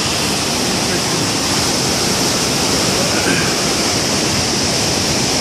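A real river rushing past a horizontal-wheel grain mill, a loud, dense, unbroken roar of turbulent water that stays steady throughout with no voices.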